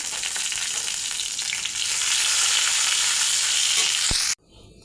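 A bay leaf and panch phoron spices crackle in hot mustard oil in a pan for pumpkin ghonto, a loud, close, continuous sizzle that cuts off sharply near the end.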